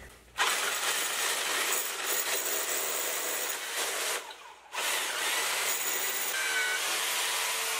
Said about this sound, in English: Get this drilled out a little more.